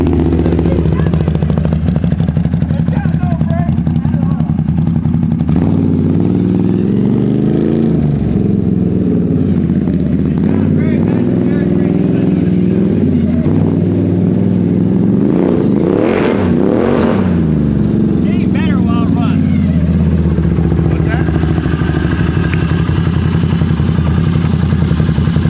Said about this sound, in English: So we're gonna run it around a little bit, get it warm